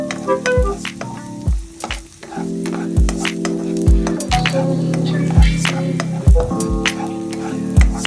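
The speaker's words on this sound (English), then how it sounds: "Add the minced garlic and saute for about 30 seconds until it's fragrant." Minced garlic sizzles in olive oil in a pan over medium heat, a steady close frying hiss broken by regular stirring scrapes and soft knocks every second or so.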